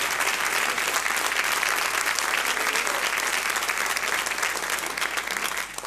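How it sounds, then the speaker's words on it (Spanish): A church congregation at a Sunday service applauds loudly and continuously for around six seconds, a dense wash of clapping that fades a little at the close. "Aplaudan, hermano"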